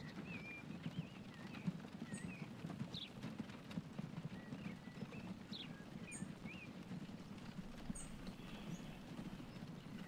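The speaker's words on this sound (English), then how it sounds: "we'll ride a horse cart." Horse-drawn carts in Transport Fever 2 clip-clop along steadily, a faint rhythmic hoof patter with scattered bird chirps and a soft ambient rumble, no talking.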